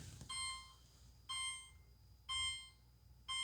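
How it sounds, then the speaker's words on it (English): An LG refrigerator temperature alarm beeps in four evenly spaced bursts, each a steady high tone lasting about half a second, over a quiet low hum. "it's not -18, so that's why it's beeping"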